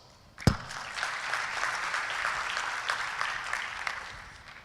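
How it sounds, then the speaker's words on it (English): Audience applause welcoming the panelists onto a panel about running particle accelerators, breaking out sharply and holding as a steady, dense clatter of many hands before starting to taper at the end. "Please help me welcome them by a big round of applause"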